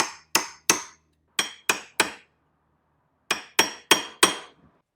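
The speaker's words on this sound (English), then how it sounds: "Now we just have to stake the nut." A hammer and punch stake the clutch nut on a Yamaha FJ09 CP3 engine, giving sharp ringing metallic strikes in two groups of about six evenly spaced blows, close and clear with silence between.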